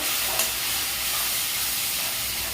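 Spices sizzle and fry in a hot pan, a loud continuous hiss with no voices.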